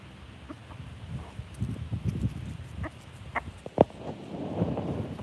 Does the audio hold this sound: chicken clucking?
yes